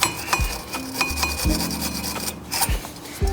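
Scrubbing and wiping under the brake caliper of a Toyota 86: close, repeated rasping and rubbing strokes with occasional light metallic knocks, continuous and fairly quiet, with no talking.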